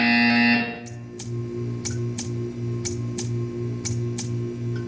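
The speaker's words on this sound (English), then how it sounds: "You will hear a buzzer. When you hear the buzzer, stare at the art." A loud electronic buzzer from the video game Portal 2 blares for under a second, then gives way to a steady, rhythmic ticking in the background.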